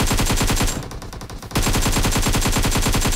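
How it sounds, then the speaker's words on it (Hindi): An M249 machine gun fires in PUBG, a fast, steady stream of loud rapid shots that pauses briefly and then resumes in another sustained burst. "रिलोड वगैरह की साउंड आ रही है मेरे को M249 की"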